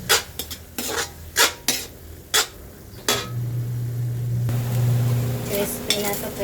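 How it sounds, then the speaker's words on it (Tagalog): Shrimp frying in a pan for pancit palabok, with sharp clattering strikes of utensils against the pan early on, then a steady sizzle that holds at moderate loudness. "Ito na sa kabila hipon. Iprito lang."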